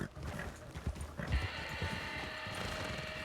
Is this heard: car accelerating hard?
no